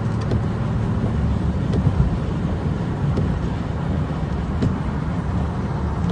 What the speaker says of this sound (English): So it's truck after truck after truck after truck.